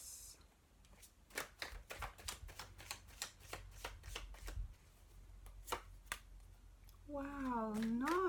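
Chuck Spezzano love oracle cards being shuffled and handled: a run of crisp card flicks and slaps close to the mic, then a voice speaks briefly near the end.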